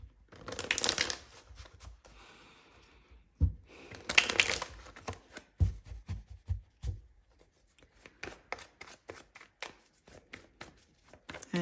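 Oracle cards are shuffled close up for a love reading, with quick riffling bursts and a steady run of crisp, light card slaps and flicks.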